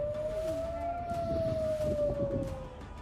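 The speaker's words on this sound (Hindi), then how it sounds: "तब पूरे इलाके में युद्ध के सायरन बज रहे थे।" An air raid warning siren sounds over Israel during an Iranian missile attack: one long wailing tone that holds and slowly sinks in pitch, ringing across a wide area with no one speaking.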